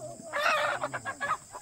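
A chicken clucks close by in a Sundarbans village home, a drawn-out call followed by a quick run of short rhythmic clucks, heard alone without talk.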